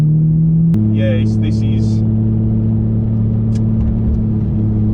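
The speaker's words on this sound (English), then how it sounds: "The V12 sounds amazing." A Lamborghini Murcielago LP670-4 SV with a V12 engine drones loudly and steadily, with a sharp shift in pitch about a second in. A voice briefly speaks over it.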